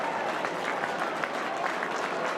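Warm applause from the crowd at an AFL football match, West Coast Eagles against Western Bulldogs, a fairly soft and distant wash of clapping, steady throughout and heard alone.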